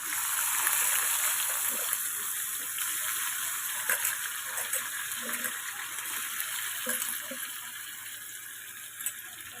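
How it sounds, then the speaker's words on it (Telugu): Bitter gourd pieces, salted and squeezed, added to a hot pan with garlic chili spice: a steady, faint frying sizzle with scattered crackles and small pops running throughout, with no voices. "ఇప్పుడు దీంట్లో మనం నీళ్లు పిండేసి ఉంచుకున్న ఉప్పుతో ఉప్పేసి పిండేసుకున్న ముక్కలు వేసేసుకుందామండి"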